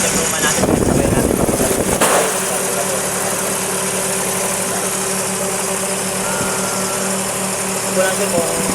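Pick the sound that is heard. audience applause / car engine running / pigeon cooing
car engine running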